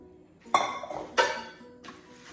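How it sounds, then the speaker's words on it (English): Ayesha Curry cookware saucepans are lifted and set down, giving two sharp metallic clanks followed by a softer knock, close and clear in a quiet room. "So we have a nice saucepan"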